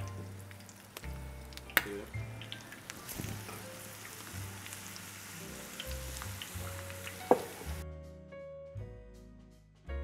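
Battered shrimp tempura sizzles and crackles in hot frying oil, a bright continuous fizz with occasional sharper pops, running steadily until it cuts off near the end, with low background hum and no talking.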